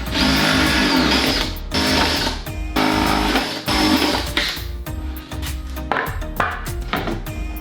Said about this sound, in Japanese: そしたら板に穴を開けていきます。